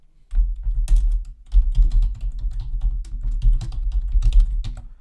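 Close, clicky typing on a computer keyboard enters a username and an email address in quick bursts of keystrokes with brief pauses between them.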